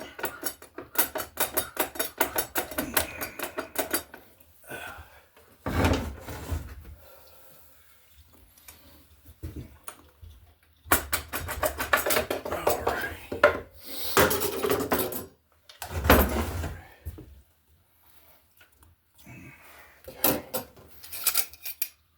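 Metal parts of a GM 8L90 automatic transmission being wiggled out and handled by hand, with irregular bursts of clanking, scraping and rattling between quiet pauses, close up and without talk.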